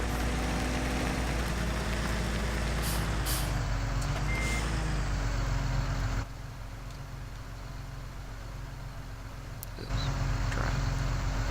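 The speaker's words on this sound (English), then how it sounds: "Not too good on the tractor, but we need to get it moved" A tractor in the Farming Simulator 2017 video game drives with a steady engine drone, with a beeping reverse warning, an air-brake hiss and a sudden drop in level partway through.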